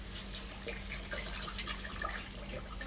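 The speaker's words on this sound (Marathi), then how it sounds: "आणि आता टाकायचं पाणी" Water poured into a cooking pan holding a peanut mixture, a steady splashing pour lasting the full few seconds, close and fairly quiet, with a low hum beneath and no talking.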